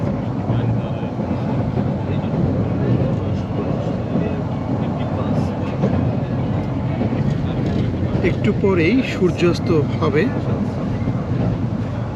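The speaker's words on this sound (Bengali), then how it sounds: "ট্রেন চলেছে ঢাকার দিকে" A passenger train travels from Chattogram toward Dhaka at sunset, with a steady rumbling roll and clatter that stays constant throughout while someone talks over it.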